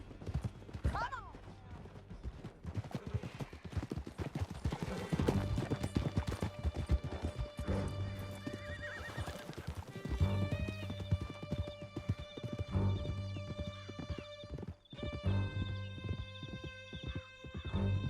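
Horses galloping hard through a canyon in Red Dead Redemption 2, dense rapid hoofbeats with a whinny, running steadily under a music score and shouting voices.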